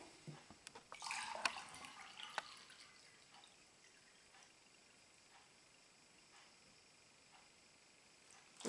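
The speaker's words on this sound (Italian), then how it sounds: "Ora verserò l'acqua anche in questo bicchiere." Water is poured from a jug into a drinking glass as a classroom science demonstration, with a burst of splashing and trickling at the start that fades to soft drips and quiet.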